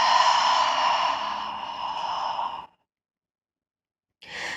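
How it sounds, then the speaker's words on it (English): A long, deep exhale during a gentle yoga breath practice, steady and close for over two seconds, then silence and a brief soft second breath. "Take a deep breath in. And exhale out."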